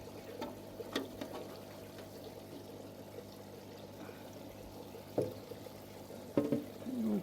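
Pond water pouring into a patio water feature, a steady, close splashing flow with a few louder gushes near the end and no talk.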